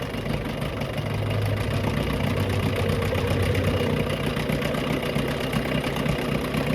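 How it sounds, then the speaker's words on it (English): An old Johnson 6HP outboard motor idles steadily and close, with a continuous low rumble and a faint rhythmic knock that stays even throughout. "I think you want to run your idle just a little bit better."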